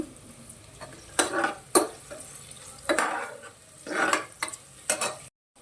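Onions frying with star anise, cloves and a bay leaf, a soft sizzle under several bursts of spoon scraping and stirring in the pan, close, cutting off abruptly at the end.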